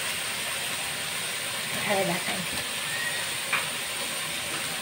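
Drumstick flowers and five kinds of vegetables fry in a pan with a steady, broad hiss and a few faint crackles, as a voice speaks briefly.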